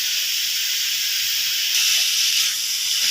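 Chopped chicken sizzling in a hot pan with salt and spices, a steady close hiss that brightens and grows slightly louder partway through, with no talking.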